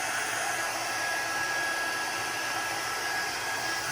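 A hair dryer blows steadily to dry alcohol ink on a tumbler, a loud constant whooshing hum with a thin high whine running through it.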